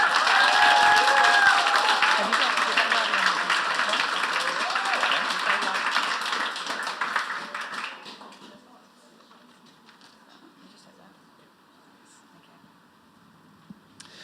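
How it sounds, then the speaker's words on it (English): Audience at a 2024 poetry slam cheering and applauding the slammers, dense loud clapping for several seconds that tapers off and gives way to a quiet room with faint murmurs. "let's just have a huge cheer for all of our slammers tonight"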